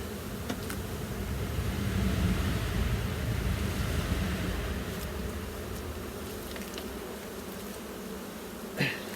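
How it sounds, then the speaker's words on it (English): Honey bees swarm around an open hive during the nectar flow, a dense, close, continuous buzzing that stays steady throughout. "I'm not squashing any bees"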